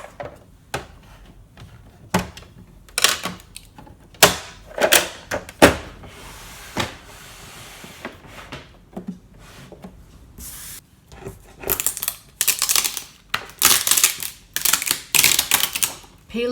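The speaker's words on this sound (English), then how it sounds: "So I can say, okay, I can unload the mat." A Brother ScanNCut cutting machine unloads its cutting mat with a run of loud, close mechanical whirs and clacks in irregular bursts, growing busier toward the end.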